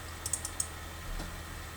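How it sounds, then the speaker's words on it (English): Light clicks of a computer mouse on a Windows 7 PC, a few quick taps close together near the start over faint room hum. "So if we double click that"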